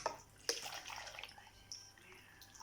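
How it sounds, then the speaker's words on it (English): A small amount of water is poured for blending a concentrated ABC juice, with faint splashing and trickling and a brief sharper splash near the start, quiet and close. "I'm gonna add small water because I want it to be very concentrated."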